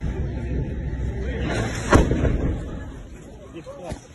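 A single heavy explosion booms in the middle, fairly close, rolling away over background noise, with a fainter pop near the end, in Kherson.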